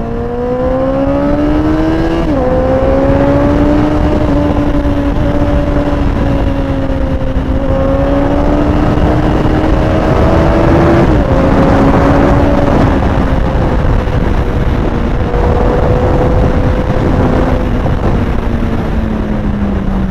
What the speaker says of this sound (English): So he got a new bike, a Continental GT. It is 650cc, James